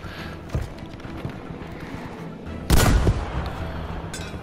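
A tank blowing up during a Battlefield V match on PS4, with gunfire popping throughout and one loud, sharp explosion standing out partway through.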